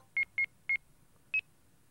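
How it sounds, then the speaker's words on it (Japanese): Phone keypad tones from a Japanese live-action drama video game, with three short identical beeps followed by a higher fourth tone after a pause, clean and isolated. "美月に電話だ"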